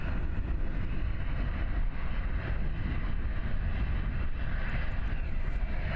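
Dash 8 turboprop airliner departing Christchurch airport, a steady loud engine roar sustained throughout without talk.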